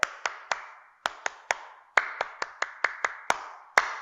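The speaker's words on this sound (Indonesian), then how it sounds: "kita tepuk HW dulu" An elementary school class claps out the rhythmic HW clapping routine together: crisp, sharp claps in a patterned sequence of short bursts and pauses, close and distinct, with no talking.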